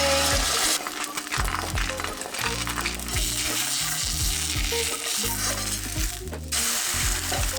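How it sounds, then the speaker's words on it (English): Egg frying in a preheated stainless steel pan, a loud steady sizzle and crackle close by, with clinks and low thumps of cookware in the kitchen around it and no talk. "I'm gonna make an egg this morning."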